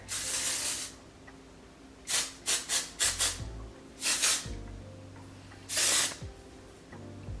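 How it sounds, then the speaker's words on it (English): Hairspray from an aerosol can hisses onto the ends and underside of styled curly hair in about seven short bursts, some single and some in quick clusters, close and fairly quiet, separated by near silence. "spray upward into the ends of my hair"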